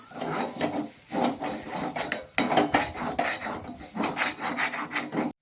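Gram flour being stirred into garlic fenugreek in a pan, a series of rhythmic scraping and rasping strokes of a spoon against the metal, close and clear with no voices.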